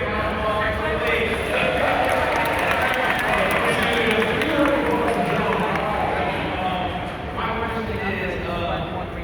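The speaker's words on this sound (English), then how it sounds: "Give me a round of applause for the ladies." An audience at a fan expo claps and cheers for several seconds in a large hall, a dense, steady wash of applause close by that eases slightly toward the end, with voices mixed in.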